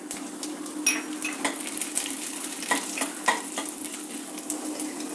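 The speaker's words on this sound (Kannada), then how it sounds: "ಬಾಣಲಿ ಇಟ್ಟಿದ್ದೀನಿ, 4 ಟೀಸ್ಪೂನ್ ಎಣ್ಣೆ ಹಾಕಿದ್ದೀನಿ, ಎಣ್ಣೆ ಕಾದಿದೆ. ಸಾಸಿವೆ ಹಾಕೋಣ." Mustard seeds with chana dal and urad dal sizzle in four teaspoons of hot oil in a pan for rava idli, a steady frying hiss broken by sharp pops and a few utensil clinks, close and alone.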